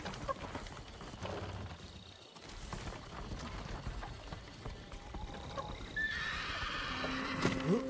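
A horse whinnies amid hoof clip-clops and game-like ambience in the video game Ghost of Tsushima, with a few brief sound effects near the end.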